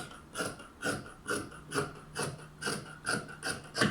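Scissors cut through the waist edge of crochet skirt fabric in about nine quick, evenly spaced snips, close and fairly quiet, with no talking.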